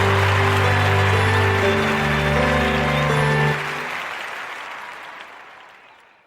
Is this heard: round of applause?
yes